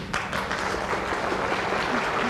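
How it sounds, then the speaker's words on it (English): Audience applause at a 1990 university fall convocation, following a name being read for a Bachelor of Business Administration degree; steady, dense clapping from a large crowd filling the hall throughout, with no talk over it. "We'll wait till they applaud here"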